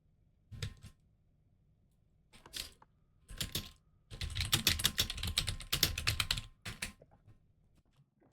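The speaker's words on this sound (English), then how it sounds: "my keyboard's loud" Fast, aggressive typing on a loud computer keyboard during a night of online gaming, heard alone as several clattering bursts of keystrokes separated by short pauses, the longest flurry running for about two and a half seconds.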